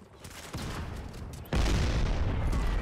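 Video game explosions and gunfire from Modern Combat 5 on iOS: a dense, rattling fusillade swells before a heavy boom hits, followed by loud, sustained battle noise.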